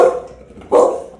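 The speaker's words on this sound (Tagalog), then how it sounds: "Tahol lang tahol." A bully-breed dog gives two loud, close barks, one at the start and a second, sharper one about two-thirds of the way through, with no talk over them.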